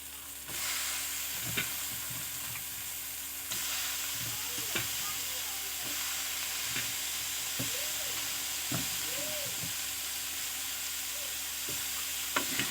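Crab frying in a pan while being stirred, a constant hissing sizzle with scattered scraping and clinking stir strokes throughout.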